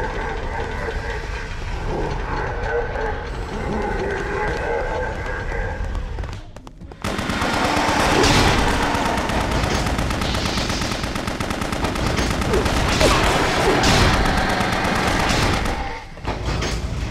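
Submachine gun fire from the video game BloodRayne, a dense, loud stretch of rapid shots and chaotic game noise filling most of the clip after a quieter opening of background game sound.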